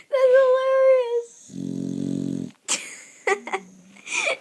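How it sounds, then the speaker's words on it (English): A dog snores loudly with a buzzy, rasping rattle. High whining tones come before it, and snorting, wheezy breaths come after. "She's snoring so loudly."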